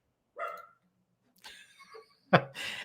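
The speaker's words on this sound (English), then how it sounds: "As a dog is barking in the background" A dog barks in short, separate bursts, three yips and barks spaced across a few seconds, heard plainly against an otherwise quiet background.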